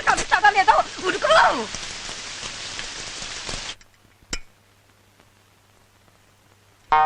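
Steady rain hisses loudly for a few seconds while voices speak over it. Then the sound cuts off abruptly to near silence, broken only by a brief thump.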